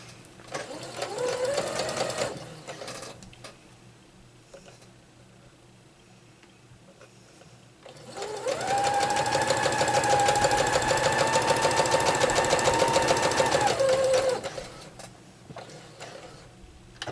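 A sewing machine stitches a seam on a disappearing four patch quilt block, running in two bursts of rapid, even whirring: a short run, a pause, then a longer steady run close by.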